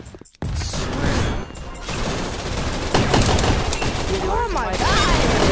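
SMG gunfire in the online shooter Gun Raiders, dense rapid bursts and crashes blending into a constant loud battle din, with voices shouting excitedly over the shooting.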